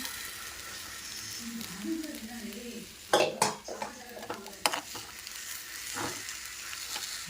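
Coconut and chana dal frying with salt and chili in a pan for a curry, a quiet sizzle with a few sharp clinks and scrapes of a spoon on the cookware.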